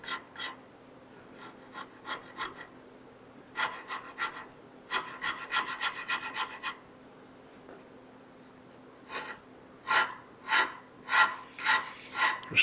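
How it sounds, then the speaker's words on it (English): A number 13 Lagier rasp filing a wooden segmented tabletop piece for a Greene and Greene style cocktail table, in close, rhythmic bursts of rasping strokes separated by pauses, steady and alone. "This is a number 13 Lagier rasp."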